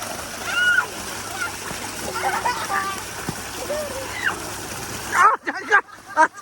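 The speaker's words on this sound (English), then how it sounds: "The water reached the top and it just went whoosh and the sides came up." Water splashes and rushes over the sides of a garden water feature at Alnwick Garden, a steady near wash of sloshing and spatter with people talking and exclaiming over it, ending abruptly.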